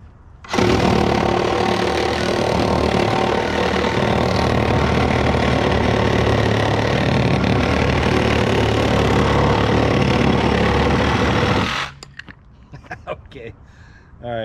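A reciprocating saw fitted with a new carbide-tip Diablo pruning blade cuts steadily for about eleven seconds, a loud, continuous buzzing rasp close to the microphone, then stops abruptly.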